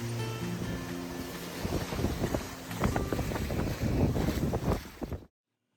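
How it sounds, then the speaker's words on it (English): A sailboat sloshing in choppy seas where wind and current fight each other, with steady wind buffeting, water slapping the hull and a low rumble, loud and close until it cuts off. "With the wind and current fighting one another, we and two other sailboats sloshed around in the choppy seas."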